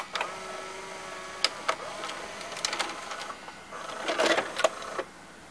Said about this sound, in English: He ejects the tape with no issues.